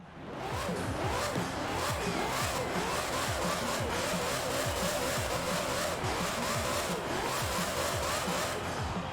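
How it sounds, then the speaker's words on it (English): A tuned 1800-horsepower Hoonigan Bronco in Forza Horizon 4 revs hard, its loud engine roaring and pulsing with repeated throttle swells that last the whole stretch, with no voices over it. "Yeah, that's certainly an engine note now."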